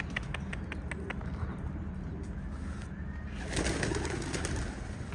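Pigeons coo softly on a rooftop over a steady background hum, low repeated calls with faint clicking, no one speaking.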